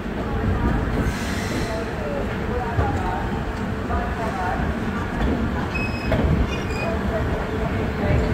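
Mithila Express train at Raxaul Junction platform 2 fills the air with a steady low rumble of railcars and rolling wheels, with faint squeals and station noise, continuous and close throughout.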